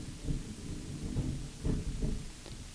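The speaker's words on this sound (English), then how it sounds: "That was thunder." Low, faint thunder rumbling distantly in a few soft swells during a live tabletop game session, with no talk over it.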